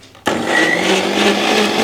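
A kitchen mixer grinder starts abruptly and blends cucumber with a loud, steady whirring roar that holds to the end, close up with no talk.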